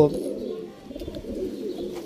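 Pigeons coo in a home loft, soft low throaty murmurs overlapping close by, with a voice speaking over them.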